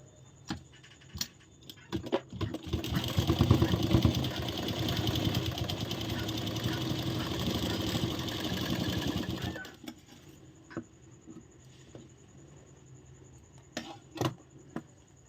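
A sewing machine stitches a princess-cut blouse fitting in one loud, continuous run of rapid needle chatter lasting several seconds, then stops, leaving scattered handling clicks and taps.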